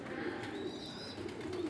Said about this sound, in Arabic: هذا طير مال سباق ولا مال فكة، يعني ما متعلم على برج